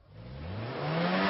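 A played sound effect of a car braking sharply: a steady, rising screech-like roar that grows louder over about a second, heard alone without any talk.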